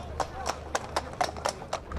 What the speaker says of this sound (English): the horses do come by at times really quite fast